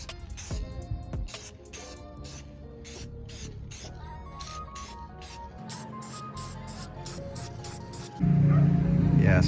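A can of Rust-Oleum 2X Ultra Cover matte clear coat hisses in a quick series of short, close spray bursts over a Lexan RC crawler body, ending in a louder sustained blast.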